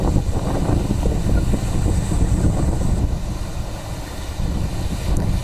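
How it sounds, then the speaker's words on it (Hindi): Strong wind roars without pause through Cyclone Yaas in Odisha, with gusts buffeting the microphone and rain mixed in under a broad, steady rush that never lets up. "तेज हवाएं चल रही हैं, बारिश हो रही है।"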